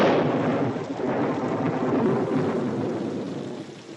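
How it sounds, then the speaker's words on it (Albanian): Thunderstorm on a cold, stormy October night, with steady heavy rain and a broad rumble of thunder filling the whole stretch, loud and continuous. "Një natë të stuhishme dhe të ftohtë në tetor."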